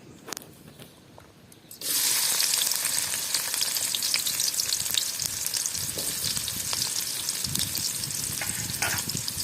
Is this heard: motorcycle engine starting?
no